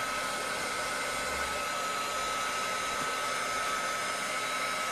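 Steady, close blowing whir of a heat tool warming vinyl transfer tape over painted canvas, running continuously without pause at a constant level and never speeding up or slowing down, with no talking.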